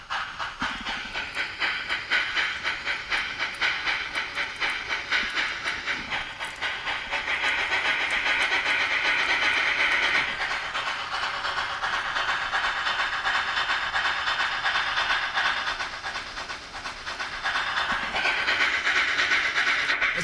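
An LGB model Shay steam locomotive, No. 7, plays its onboard steam sound: a loud, continuous hiss with rapid, even chuffing and a faint clickety-clack, steady throughout.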